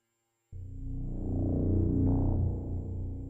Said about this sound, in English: Let us add a drone of some sort.